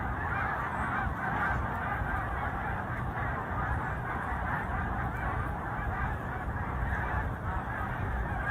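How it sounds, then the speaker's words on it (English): A large flock of migrating snow geese honks continuously overhead, a dense, distant-sounding chorus of overlapping calls with no voices. "These white lines in the sky are actually snow geese during their migration season."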